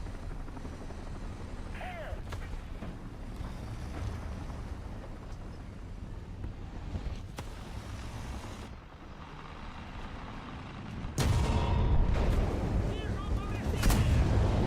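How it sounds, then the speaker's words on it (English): Artillery strike explosions in a War Thunder-style vehicle combat game, dense rumbling booms and engine drone throughout, with a louder, heavier burst of blasts landing close in the final few seconds. "Somebody's dropping an artillery strike on me?"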